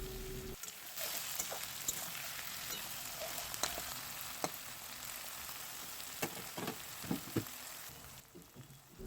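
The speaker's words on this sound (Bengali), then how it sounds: "পেঁয়াজগুলো ভাজার জন্য দিয়ে দিলাম সামান্য একটু নুন" Onions with a little salt fry in a pan, giving a steady soft sizzle with scattered crackles and occasional stirring clicks, fairly quiet and close, with no one talking.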